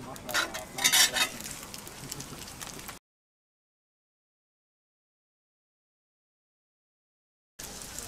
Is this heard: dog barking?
no